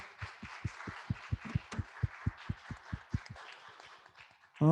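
A church congregation claps in a rhythmic burst during a New Year's Sunday morning worship service, about fifteen sharp, steady claps close together that stop abruptly near the end.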